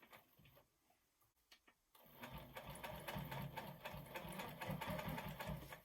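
A longarm quilting machine basting a quilt sits quiet apart from a few soft clicks, then starts up into a steady, close, rapid mechanical whirring of stitching that runs to the end.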